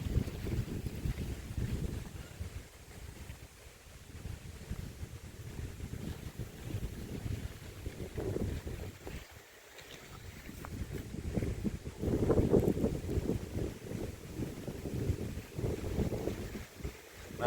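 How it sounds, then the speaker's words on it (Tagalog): Strong gusty wind blowing across an open fruit farm campsite in Bamban, Tarlac, roaring loudly and buffeting the microphone throughout, with surges and brief lulls, and no one speaking. "Wow, lakas ng hangin."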